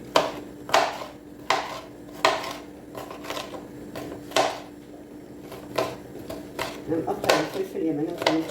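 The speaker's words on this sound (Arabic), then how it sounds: "هنقطع الفلفل يا بنات زي ما انتم شايفين كده" Knife chopping peppers on a kitchen cutting board, a series of sharp irregular knocks a second or so apart, growing quicker and busier toward the end, with someone talking in between.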